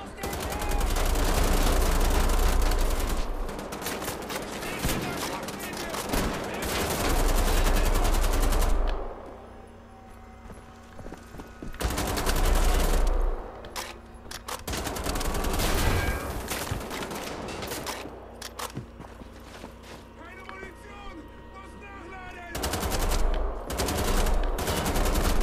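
Twin AK rifles rattle off long, loud automatic bursts in Wolfenstein: The Old Blood, pausing briefly between volleys, with a voice speaking now and then over the gunfire.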